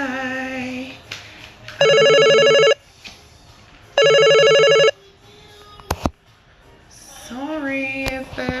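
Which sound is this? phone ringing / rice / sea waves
phone ringing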